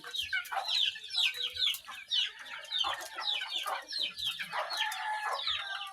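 Young chicks cluck and cheep in a busy, excited chorus at feeding time, with many overlapping close calls and no talk.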